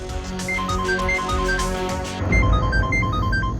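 A bright electronic phone ringtone plays a repeating melody of short beeping notes, loud and close, continuing for a few seconds.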